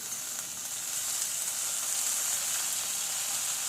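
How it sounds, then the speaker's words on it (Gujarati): Onions and tomatoes sauté in a pan for a traditional Gujarati dish, giving a steady, even hiss of sizzling oil close by without any voices. "ટામેટાને પણ શેકી લઈશું સરસ સોફ્ટ થાય ત્યાં સુધી।"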